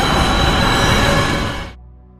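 A passing train from a superhero film scene, its rails and wagons roaring loud and broadband close by for nearly two seconds before cutting off abruptly into quiet.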